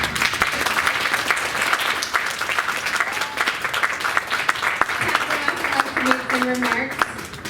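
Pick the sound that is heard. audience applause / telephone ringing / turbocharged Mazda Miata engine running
audience applause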